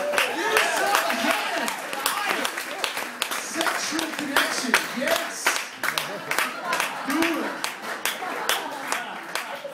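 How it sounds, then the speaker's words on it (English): A comedy club audience at Hollywood Improv claps in a brisk burst of applause, many hands smacking close together while a voice talks over the clapping. "Let's clap it up for the crowd tonight."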